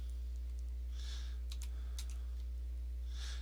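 A computer keyboard is typed on in a few quiet, scattered bursts of keystrokes, set over a steady low electrical hum.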